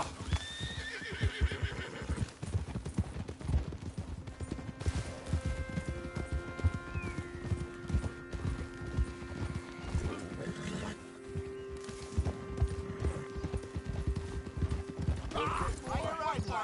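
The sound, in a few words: horse galloping and neighing, from a video game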